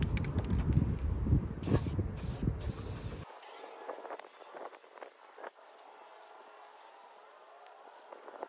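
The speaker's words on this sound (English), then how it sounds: "So we're going to go ahead and spray that on." Rust-Oleum Golden Sunset spray paint hisses from a can onto military bridge plates in a loud continuous burst with a few short breaks, then cuts off, leaving faint quieter spurts and room noise.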